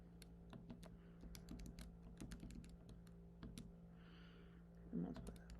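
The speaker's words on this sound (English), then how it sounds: "I'm just going to type that into my calculator real quick." Numbers being typed into a calculator, close by: a steady run of quick, light key taps at a brisk, uneven pace over a faint hum, with no talk over the presses.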